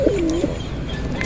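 Racing pigeons give a short, soft coo close by, one brief call against a low background murmur.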